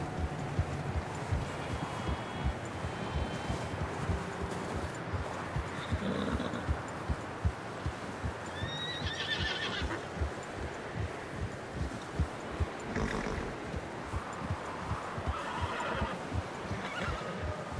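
In the Red Dead Redemption 2 video game, a horse is ridden at a steady pace with rhythmic clip-clopping hooves and a couple of clear whinnies partway through, over faint outdoor ambience.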